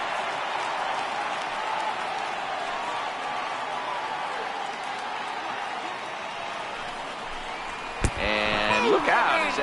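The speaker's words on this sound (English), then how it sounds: "I can hear the crowd murmuring now, wondering if he hit him on purpose." A ballpark crowd in the baseball video game MLB The Show murmurs after a batter is hit by a pitch: a dense, steady wash of crowd noise, with a sharp tonal chime and brighter sounds near the end.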